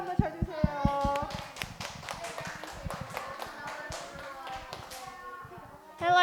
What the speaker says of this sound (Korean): 박수, 한양의 박수 한번 쳐주세요.